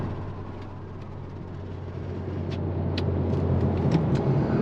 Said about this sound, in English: No drama there, accelerating up to 60 miles an hour, no torque steer at all.